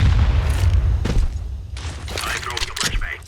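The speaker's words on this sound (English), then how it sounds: "Flashbangs thrown in return." Flashbang grenades going off in Counter-Strike on Dust 2, a run of booming thuds and bursts amid gunfire clatter, with a commentator talking over it.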